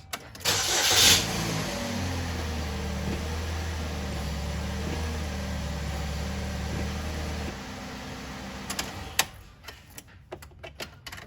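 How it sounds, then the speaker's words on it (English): A 2010 Chevy Cobalt engine cranks and catches, then settles into a steady idle for several seconds before cutting off, leaving scattered clicks and knocks from work nearby. "the pedal's firm, so I'm going to go ahead and start it"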